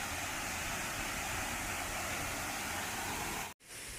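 Mae Khamin waterfall pours in a steady, loud broadband rush that fills the scene without a break, apart from a brief dropout near the end.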